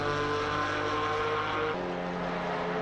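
Simulated Porsche race car engine from Assetto Corsa Competizione on the Suzuka circuit, a steady loud drone with sustained harmonic tones that shift downward partway through as the car changes gear, with no talk.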